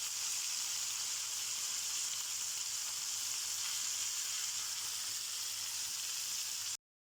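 Flour-coated fish frying in oil over medium heat, a steady, close, even sizzle with a dense crackling hiss that runs unbroken until it cuts off abruptly near the end.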